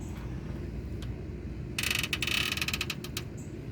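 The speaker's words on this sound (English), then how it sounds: "watch how well the door opens and closes now" Door of a chicken tractor swinging open and shut, a soft creak followed by a burst of rattling metallic clicks and clatter, close and brief, with no voices.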